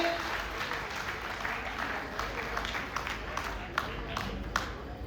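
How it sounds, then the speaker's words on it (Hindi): A hall audience at a Gahoi Samaj community gathering in Gwalior claps for several seconds, a dense steady patter carrying on under a faint murmur of voices, with a few sharper individual claps standing out near the end. "सभी लोग जोरदार तालियां बजाएं रूपल भैया के लिए।"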